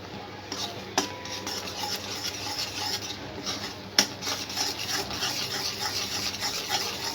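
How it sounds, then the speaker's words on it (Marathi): A spoon scrapes and rubs in a pan as milk-powder khoa is stirred for basundi, making a steady rasping sound with a couple of sharper knocks against the metal. It is close and continuous, and nobody speaks. "असं हलवत राहायचं घट्टसर झाला की आपण काढून घ्यायचं तोपर्यंत आपण हलवत राहायचं"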